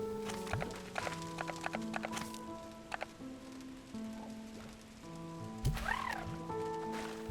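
A hen clucks and squawks among farm sounds in the video game Slime Rancher 2, set against steady tonal game music with brief thumps and a rising call near the end.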